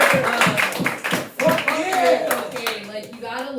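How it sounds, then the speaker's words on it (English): An audience at a comedy debate event clapping, a burst of hand claps with voices talking over it throughout. "if we can clap it up real quick"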